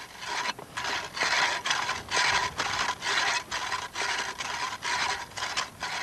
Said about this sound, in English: dry drilling goes on